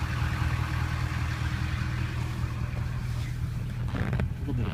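Monsoon storm wind in Tucson roars steadily around a parked 2001 Chevrolet Silverado diesel 4x4, a dense, constant rumble and buffeting at full loudness without pause.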